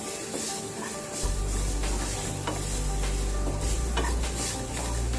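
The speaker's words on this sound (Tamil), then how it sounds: "3 டேபிள் ஸ்பூன் அளவுக்கு துருவிய தேங்காய் சேர்த்து இதையும் இது கூட வறுத்துக்கலாம்." Grated coconut and spices dry-roast in a pan for village-style chicken kuzhambu, with steady scraping and stirring over a low crackling hiss and a faint hum of the stove underneath.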